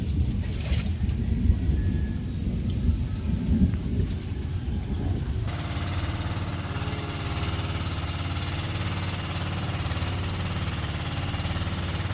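Heavy rain with thunder at Layag Layag Beach in Nasugbu, Batangas: a steady, loud wash of rain and wind noise with low rumbling that shifts partway through and continues unbroken, with no voices.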